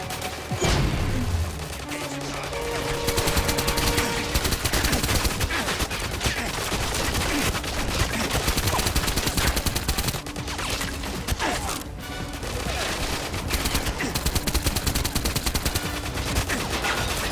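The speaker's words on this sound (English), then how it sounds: "If the player is seen or chooses a non-silenced weapon, then the chances are they will get into an all-out firefight with the enemy" Sustained gunfire in a firefight from GoldenEye 007: Reloaded, dense bursts of shots running steadily and loudly throughout with a brief explosive boom near the start and layered game effects.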